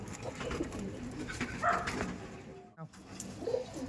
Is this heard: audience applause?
no